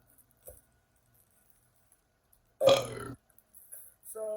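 A single loud, deep burp of about half a second rises out of near-silence, followed by a quieter gurgling tail and faint rustling.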